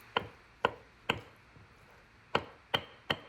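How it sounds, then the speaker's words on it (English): A knife chops through a slightly browned avocado on a cutting board, six sharp thuds at an uneven pace plus one softer tap, close and clear with no talking. "So I'm going to cut some of that brown off, chop it up, and eat it anyway"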